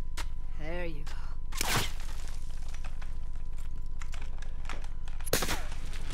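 Gunfire in Warzone on the Caldera map: two short, loud, sharp bursts, one near the start and another near the end, separated by a quieter stretch of game ambience with faint rustling and footstep-like taps.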